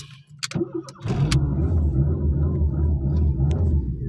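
A Fiat Tipo car engine cranks and catches after a few brief clicks, then settles into a close, steady, rumbling idle that holds for several seconds.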